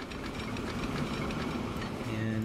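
Trains rumble along the tracks in the city-building game Transport Fever 2, a steady mechanical clatter with humming tones, continuous and fairly loud, with no one speaking.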